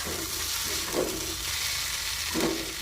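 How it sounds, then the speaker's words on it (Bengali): Beans fry lightly in a wok (kadai) with a steady soft sizzle. Two brief stirring scrapes punctuate it, and there is no talk. "এটাতে আমি একটু হালকাভাবে ভেজে নেব"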